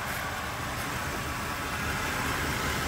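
A 1977 Chevrolet Monte Carlo with a 305 two-barrel V8 at low idle, a steady, smooth, even engine hum heard close up with no other sounds.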